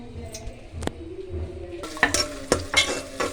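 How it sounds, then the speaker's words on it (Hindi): Sliced onions frying in oil in a cooking pot for beef yakhni pulao, a soft steady sizzle broken by several sharp clinks and scrapes of a spoon stirring against the metal, close and fairly quiet. "हमने प्याज देसी के अंदर डाल दिया और अब इसको हल्का सा फ्राई करेंगे"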